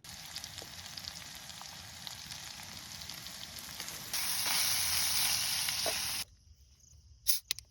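Marinated pork steak sizzles and fries steadily over a campsite stove outdoors, a constant hiss that grows louder midway before cutting off abruptly, followed by a few faint clatters.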